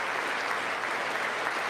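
Members of Congress applaud during the State of the Union, giving a dense, sustained wash of clapping from a large crowd in a big hall that holds steady throughout, with no voices over it.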